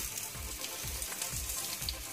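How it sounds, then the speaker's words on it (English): Food shallow frying in a pan, a steady faint sizzle with soft rhythmic low thumps. "Let's fry these up, shall we?"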